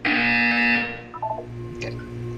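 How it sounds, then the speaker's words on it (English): A loud, harsh electronic buzzer sounds in Portal 2, sustained for under a second before cutting off, followed by soft chiming tones and a low background hum. "You will hear a buzzer."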